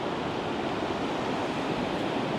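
The river at Llangollen in autumn, seen from the town bridge where rafts come down and flowing fast. It gives a dense, steady rushing roar, loud and close, with no voices.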